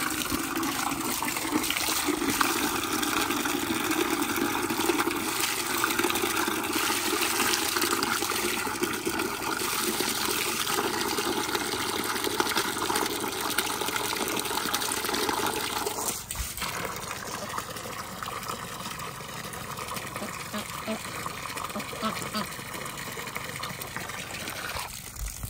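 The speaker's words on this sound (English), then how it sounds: "I'm just gonna fill this water up some." Water pouring and filling a container outdoors, a continuous close rushing and splashing that changes tone partway through as the level rises.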